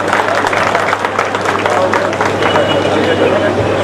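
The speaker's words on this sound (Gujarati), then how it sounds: "આપણે જોરદાર તાળીઓથી વધારશું." Audience applause at a Gujarati honouring ceremony, a dense steady wash of clapping that runs the whole time with crowd murmur and a low hum underneath.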